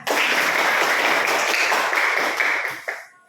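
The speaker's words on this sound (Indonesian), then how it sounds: "Oke, tepuk tangan." A classroom of students claps hands together during a lesson, producing a dense, continuous burst of clapping for about three seconds before tapering off into a few last claps.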